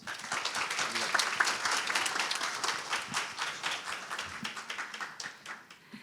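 A conference audience applauds two speakers, a moderately quiet, fairly close patter of many hands that swells early and gradually thins toward the end.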